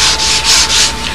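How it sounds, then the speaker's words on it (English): A sanding block with 80-grit sandpaper rubs back and forth on a flat surface, probably a model wing, giving loud, close, rhythmic rasping strokes with no voices. "But always we're using a sanding block"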